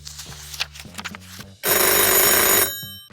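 A telephone in an audiobook scene gives a single loud, sustained electric ring lasting about a second. Before it comes soft, faint background sound, and the ring then cuts off abruptly.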